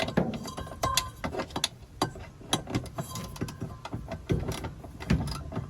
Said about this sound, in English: So let's loosen the bolt.